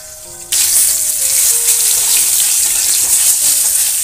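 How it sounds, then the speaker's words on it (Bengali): Eggplant fries in a covered pan: after a quiet moment a loud, close sizzle bursts up suddenly and holds as a steady crackling hiss to the end. "এক সাইড আমি বেগুনটাকে উল্টিয়ে দিলাম, আবার ঢাকা দিয়ে দেব। এটা ভালো করে ভাজা হবে।"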